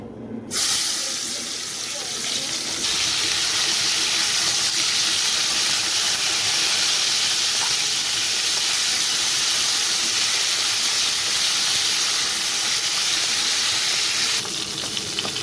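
Pakal eel fish frying in hot oil after being rubbed with salt and turmeric, a loud continuous sizzling hiss that starts abruptly and holds steady close by.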